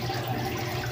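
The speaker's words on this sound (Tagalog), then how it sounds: "So ayan na, makyat ng tubig at umaagos na siya pababa" Pump-fed water running down a DIY wooden aquarium waterfall, a close, continuous trickling flow with no pauses.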